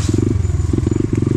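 Loud, close trail motorcycle with a 140 cc stock engine and a replaced exhaust, its engine firing in a rapid, choppy pulsing burble that cuts in and out briefly as the throttle is blipped.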